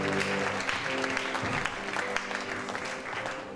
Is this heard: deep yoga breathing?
no